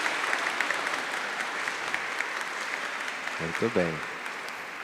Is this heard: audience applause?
yes